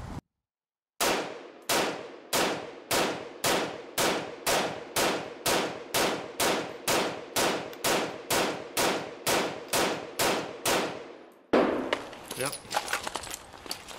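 A rifle fires about seventeen rapid, evenly spaced shots of 150 grain Red Army Standard steel-cased .308 ammunition, each a loud, sharp crack with a short ringing tail. The string ends in a burst of rustling and handling noise.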